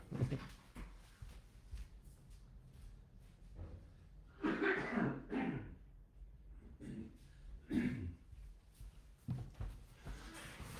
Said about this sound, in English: I'm going to step away from the camera for 1 second and have a good cough